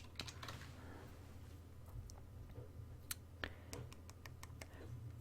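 Computer keyboard typing during a game-module coding stream, a steady run of quiet, close clicks with a few sharper keystrokes over low background hum.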